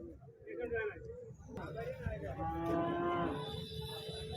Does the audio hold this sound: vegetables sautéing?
no